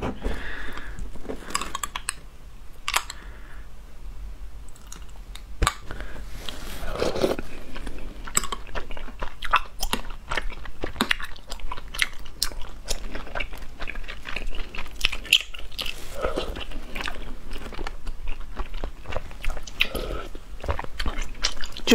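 Taro balls in fresh coconut milk being eaten up close, with soft wet chewing and squishy bites, occasional crisp clicks of a spoon against a bowl, quiet and intimate.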